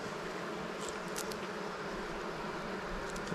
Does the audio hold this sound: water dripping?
no